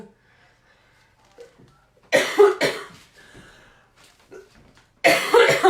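A person with a cold coughs hard and close by: two harsh coughs in quick succession, a quiet pause with faint breathing, then another loud coughing burst at the end.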